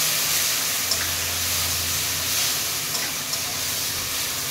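Garlic, ginger, cashew and tomato paste sizzling in a pan for restaurant-style palak paneer, a steady bright hiss with faint stirring clicks, continuous and moderately loud with no talk.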